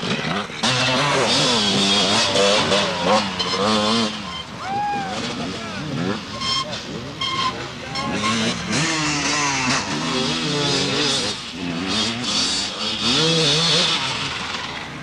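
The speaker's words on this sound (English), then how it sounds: "This is one of them, Jeff Fredette on bike 277, the Kawasaki 200." Jeff Fredette's Kawasaki 200 enduro motorcycle, bike 277, at the 1998 International Six Day Enduro in Australia, its engine revving and droning steadily beneath continuous commentary.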